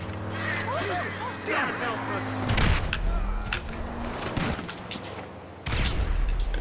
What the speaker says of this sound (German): Achtung, du wirst beschossen.